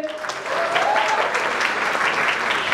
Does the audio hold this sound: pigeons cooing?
no